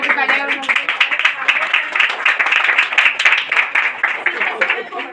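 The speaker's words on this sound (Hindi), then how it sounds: "सारे साथ तालियां बजाएंगे। सारे हाथों को तालियां बजाएंगे।" A group claps hands together at a women's celebration prayer meeting in a church, a dense, steady patter of many hands close by that runs through the whole stretch with no pause.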